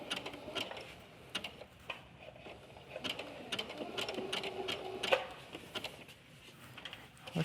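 Domestic sewing machine running a wobble stitch on knit fabric, a steady mechanical needle clatter with rhythmic ticks building in speed, fairly close and alone without talk.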